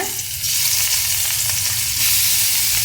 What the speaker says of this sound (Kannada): ಇದು ಹುರಿಲಿಕ್ಕಷ್ಟೇ ನಾನು ಎಣ್ಣೆ ಹಾಕ್ಕೊಂಡಿರೋದು